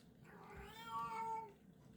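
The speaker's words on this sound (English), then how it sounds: "So excuse the background meows." Cats meow faintly in the background of a quiet room, one drawn-out, rising-and-falling meow lasting about a second amid low hiss.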